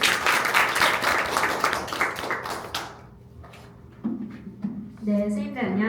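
An audience at an education seminar applauds to welcome a speaker, dense clapping for about three seconds that dies away, followed by a few scattered claps and then a voice starting to speak.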